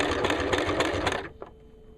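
A sewing machine stitches a leather collar with a rapid, steady mechanical whir that stops abruptly, followed by a faint click.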